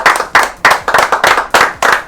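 A small group at a viennoiserie baking workshop claps for baker Philippe Hermenier in loud, close, rhythmic bursts, about seven synchronized rounds in quick succession, with no talking.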